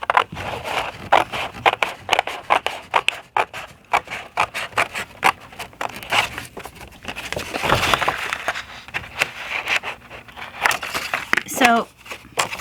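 A paper file folder being cut with scissors, the repeated crisp snips and rustling scrapes coming close and steady, with a person talking over much of it.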